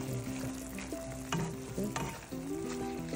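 Adobong kangkong, garden water spinach, frying in a pan with a steady close sizzle, punctuated by a few clicks and scrapes of stirring.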